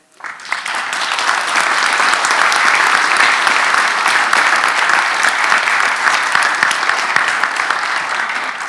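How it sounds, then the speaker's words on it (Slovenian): A large audience applauds steadily at an ethnic folk festival evening, welcoming the participating cultural groups; the dense, even clapping rises within the first second and continues strongly without talk. "Z velikim aplavzom pozdravimo vse naše nocojšnje udeležence."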